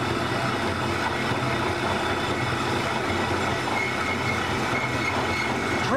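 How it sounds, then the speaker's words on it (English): A bandsaw cuts through a round steel bolt in a shop, a steady, loud grinding drone running unbroken throughout with a faint squeal near the end. "Trick when cutting something round on the bandsaw like this"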